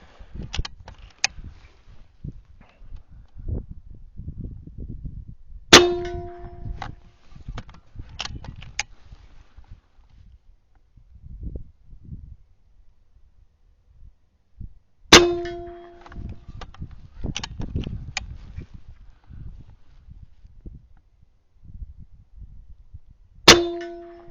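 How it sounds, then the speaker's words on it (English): Three rifle shots striking a steel target, each a sharp ringing clang that decays over a few seconds, spaced about nine seconds apart, with quiet handling noise and shuffling between them. "let's go ahead and just take a few shots here. I'll just aim at the middle of that steel."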